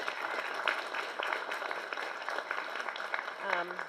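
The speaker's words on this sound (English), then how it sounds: "let's give a big round of applause to our new board members." Round of applause for new board members at a Queens community board monthly meeting, a steady, fairly faint crowd clapping that fills the few seconds, with a brief voice near the end.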